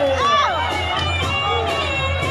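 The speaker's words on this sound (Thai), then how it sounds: "เสียงเฮมาเลยครับเสียงเฮมา" A crowd cheers and shouts loudly, with excited high voices and whoops rising over a dense roar.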